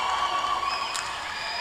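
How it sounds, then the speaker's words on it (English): An Australian crowd cheers and applauds outside at a game in Montreal, a sustained, somewhat distant roar with whistles and a brief sharp shout near the middle. "Aussie crowd going nuts outside"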